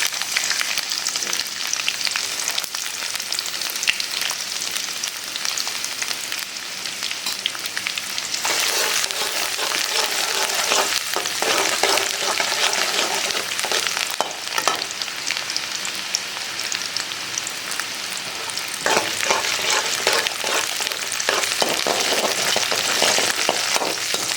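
Garlic and ginger frying in hot oil with fennel seeds, a dense continuous sizzle close by, with occasional stirring scrapes and surges where fresh pieces hit the pan.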